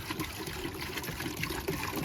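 Water trickles and gurgles steadily as it flows out, a close, continuous liquid sound with soft bubbling.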